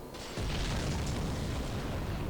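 A pyromancy explosion from Dark Souls Remastered bursts in suddenly and very loudly, then a dense, sustained roar carries on to the end.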